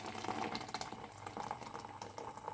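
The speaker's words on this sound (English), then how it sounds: "Let's get some water in there." Water poured into a hot pan of braising sausages, a steady sizzling, bubbling hiss with liquid splashing, fairly close and continuous.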